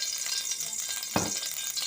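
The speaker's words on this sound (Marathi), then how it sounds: "तर त्याच्यात मी एकदम थोडंसं अर्धा चमचा तूप घालणार आहे" Half a spoonful of ghee heats in a heavy-bottomed kadhai, giving off a soft, steady hiss and sizzle, with one brief louder scrape partway through.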